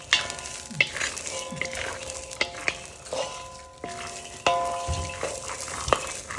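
Maize kernels roast in a pan with a dry, crackling sizzle, broken by repeated scraping stirs and metallic clinks of a utensil against the pan, close and moderately loud.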